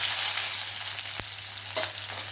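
Onion and cumin frying in oil in a wok for a bitter gourd fry, a steady broadband sizzle with a couple of brief stirring scrapes, close and continuous under a faint low hum.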